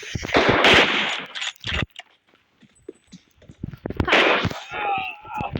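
Video game gunfire crackles in two loud rapid bursts, with quieter stretches and a voice talking in between.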